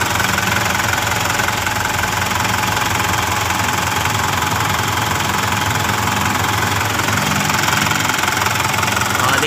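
A cold Mitsubishi Canter truck engine idles steadily to warm up its oil pan, a loud, continuous close-up diesel clatter with a knocking rhythm and constant vibration throughout, no talking.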